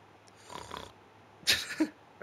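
Snoring from a trapped explorer in the Bug Fables video game, two short raspy snore breaths with a gap between them, faint and close.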